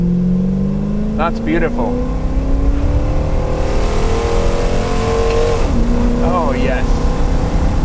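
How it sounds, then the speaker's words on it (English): A big Aston Martin Lagonda Vantage launches from a standing start at full throttle, its engine climbing loudly through rising revs with a gear change midway, while someone speaks briefly and approvingly over the roar. "we'll do a standing start, and it should pull away cleanly. Full bore acceleration."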